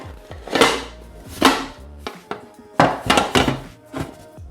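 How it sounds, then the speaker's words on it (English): A cake comes out of its pan as a plate is set on top and the whole thing is flipped over: a handful of hollow thunks and clatters of pan and plate in uneven bursts, close by, with no speech. "we'll get our plate and we'll just flip it over"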